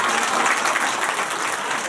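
A crowd claps together at a devotional gathering at a Krishna temple in Nandgaon, steady dense applause for about two seconds with no pauses and no talk over it.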